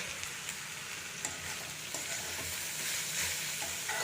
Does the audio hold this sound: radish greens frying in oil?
yes